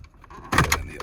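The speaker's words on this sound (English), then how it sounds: "I'm going to remove the radio bezel, and that's pretty simple" A plastic radio bezel on a third-generation Toyota Tacoma dashboard is pulled and popped loose, giving a quiet lead-in and then a brief burst of close, loud plastic clicking and rattling.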